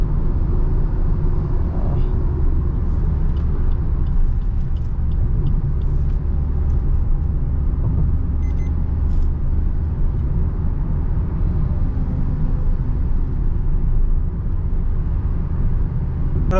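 Maruti Ertiga CNG car cruising on a road, heard from inside the cabin as a steady, loud low rumble of engine and road noise, with faint light clicks and no talking.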